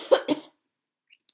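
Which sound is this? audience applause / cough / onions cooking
cough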